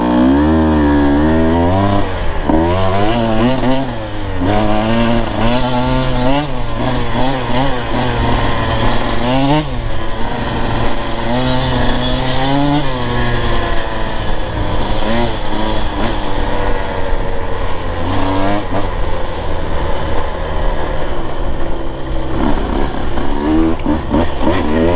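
Husqvarna TE 150 TBI two-stroke dirt bike ridden on slow double track, its engine revving and bogging steadily throughout, loud and close, rising and falling with throttle changes.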